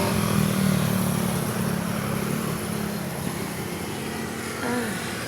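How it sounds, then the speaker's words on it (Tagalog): Steady, dense traffic roars past on a hot roadside at midday, with engines and motorcycles blending into a continuous loud rumble and hiss, and one vehicle briefly swelling nearer toward the end. "Ang daming dumadaan guys sa sasakyan guys."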